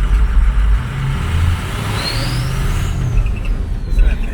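A turbocharged truck fitted with a KC Turbos stage 1 kit and intercooler runs close by, its low engine rumble rising as a turbo whistle sweeps upward, then settling back, with rough, uneven exhaust pulses throughout.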